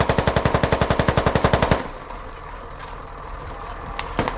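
Rapid automatic gunfire from a video game rattles in a fast, even burst of about twenty shots for nearly two seconds, then fades into quieter mechanical clicks and background noise.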